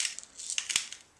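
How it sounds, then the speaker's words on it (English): A pepper grinder cracks fresh peppercorns, with quiet, crisp, crunchy bursts that come in an uneven rhythm close by. "I'm using a pepper grinder because the fresher the pepper, the better"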